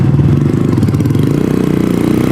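A Venom X22R motorcycle being broken in rumbles along during a ride, its loud engine throbbing in a steady, close pulsing beat without any change in pitch.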